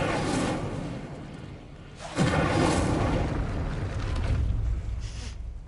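An Incendio fire spell is cast in Hogwarts Legacy, giving a loud whooshing burst of flame with a deep boom that swells suddenly and lingers as a roaring rush, heard alone.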